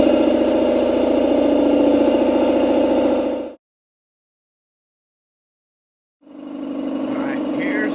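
A Speedaire air compressor with a fault that stops it building tank pressure past about 80 psi runs as a loud, steady droning hum, cuts out to near silence for about two and a half seconds, then starts up again.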